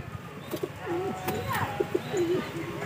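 Pigeons at a bird sale give repeated soft throaty coos in short phrases, fairly close, with background chatter and voices around them.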